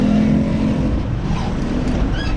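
Road traffic in a jam of cars and motorbikes rumbles loudly and continuously from close range, with engine drone and passing vehicle noise.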